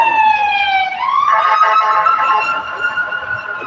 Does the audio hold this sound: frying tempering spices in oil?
no